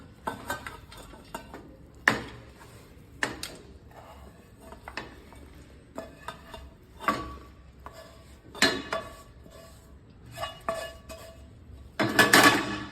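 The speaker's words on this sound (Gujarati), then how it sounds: "ઘી લગાવાઈ જાય એટલે આ મિશ્રણને આપણે એમાં ઉમેરી દઈશું" A spoon scrapes a sugar-free date mixture for khajoor pak into a ghee-greased tray. Intermittent metallic clinks and scrapes sound close by and fairly loud, with no talking.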